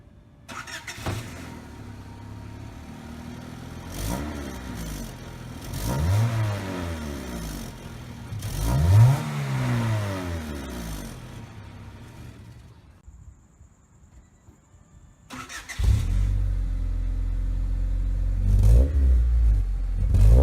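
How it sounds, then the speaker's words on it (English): A Honda Civic coupe engine with an aftermarket catback exhaust revs up repeatedly in rising and falling sweeps with a throaty exhaust tone, quiets briefly, then returns to a loud, rumbling idle. "after installing this catback, I think it got louder."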